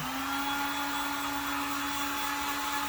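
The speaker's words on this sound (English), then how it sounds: "Grab the old hot heat gun" A heat gun blows hot air to dry paint on a Predator plasma caster prop, a steady close whirring fan drone with a constant motor tone, unbroken and alone.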